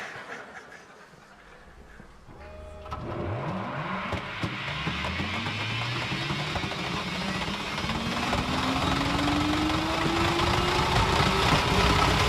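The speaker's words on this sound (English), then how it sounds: "that was a video of a test pod ride that we did in the Hyperloop" A Hyperloop test pod starts its ride with a sharp clunk, then a rising electric whine climbs steadily in pitch over a growing rushing roar as the pod accelerates down the tunnel.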